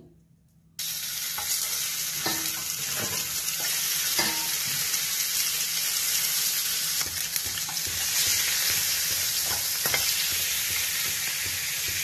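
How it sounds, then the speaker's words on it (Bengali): Fish head sputters and sizzles in hot oil in a pan before going into mung dal, a loud, steady frying hiss with small crackles that runs unbroken after a brief quiet start. "তো মাছটা আগে ভেজে নিই।"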